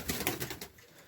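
A pigeon gives a few soft, low coos in quick succession, close by, fading out in a quiet outdoor setting.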